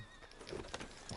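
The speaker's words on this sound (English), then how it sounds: "Come on, horse. Let's go." Horse in the Red Dead Redemption video game neighing in a short whinny with a few hoof clip-clops, moderately close and fairly quiet, with no talk over it.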